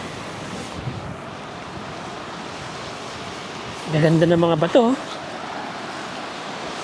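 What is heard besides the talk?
sea waves on rocky beach, Zambales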